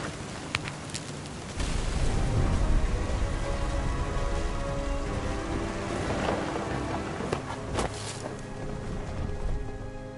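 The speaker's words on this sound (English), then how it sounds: "The thunder sounded much too close and full of angry power" Steady rain pours in the What Remains of Edith Finch video game, a dense, even wash with a few sharper drops and a low rumble of thunder beneath, continuous and fairly loud.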